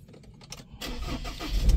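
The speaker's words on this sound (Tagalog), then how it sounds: "Ayan, napastart na niya yung ating sasakyan." Car engine starting with a newly programmed key: a few faint clicks and rattles, then the engine catches and runs louder, close by, with no talking.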